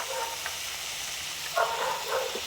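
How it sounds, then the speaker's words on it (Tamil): Curry leaves sizzle as they sauté in a pan for pirandai (adamant creeper) chutney, a steady soft frying hiss with a few brief crackles and pops rising near the end. "இதை எல்லாத்தையும் நல்லா சேர்த்து நல்லா வதக்கலாங்க."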